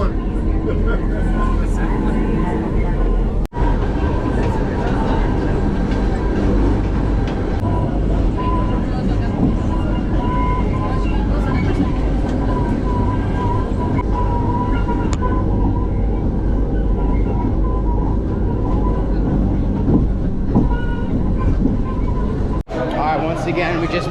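Steady loud rumble of a mountain train running downhill near Rio de Janeiro, constant engine and track noise filling the whole stretch, with a couple of brief dropouts.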